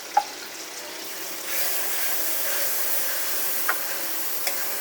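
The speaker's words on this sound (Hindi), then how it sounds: "तो इसमें मैं आलू डालूँगी।" Potatoes go into masala frying in a pan for a pea and potato curry, giving a steady sizzle that picks up after a short clink, with a few light scrapes of stirring and no talk.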